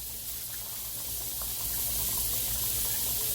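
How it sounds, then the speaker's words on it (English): A pot of water bubbles and boils hard on a fast-cooking home stove, giving a steady close rushing hiss that swells slightly louder partway through. "See how it's bubbling and boiling real fast right now?"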